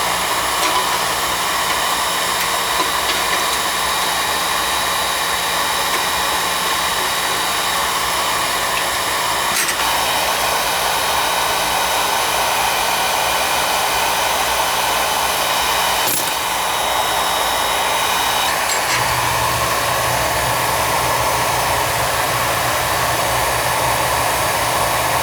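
A Becket oil burner runs with a steady, loud broadband roar, holding constant for the whole stretch with a slight shift in low rumble near the end; no one speaks.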